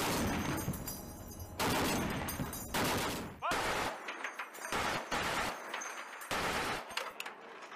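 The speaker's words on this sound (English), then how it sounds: "They fire 50 caliber rounds at a rapid rate" .50 caliber machine guns firing rapid bursts during a US Navy weapons test, loud repeated volleys of dense gunfire separated by short gaps, close and sharp.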